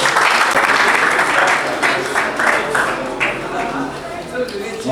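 An audience claps to welcome the next speaker at an entrepreneurship conference in a hall, steady dense applause holding for several seconds with a few sharper claps standing out, easing slightly toward the end.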